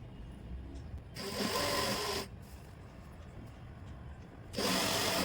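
A sewing machine runs a seam down a pair of trousers in two steady whirring bursts, separated by a quiet pause with faint background hiss.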